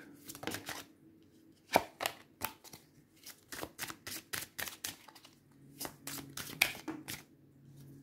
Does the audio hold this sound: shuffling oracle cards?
yes